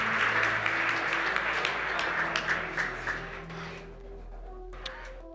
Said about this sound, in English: Please, everybody, a big round of applause for everybody who has helped put this on.